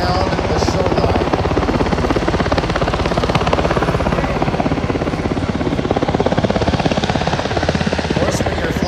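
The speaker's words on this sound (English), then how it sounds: "Look at how Captain Ben Godan very gently pirouettes the Cyclone down the shoreline." A Cyclone helicopter flies along a shoreline, its rotor producing a loud, continuous rapid thudding chop throughout, with someone talking over it.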